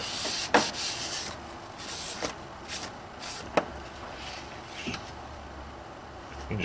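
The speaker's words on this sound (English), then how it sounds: "then I'm going to use a Scotch-Brite pad to clean the sealing surface" A Scotch-Brite pad scrubs the sealing surface of a BMW N55 oil cooler in short, gritty rubbing strokes, close up and moderately loud, with a few sharp scrapes and knocks.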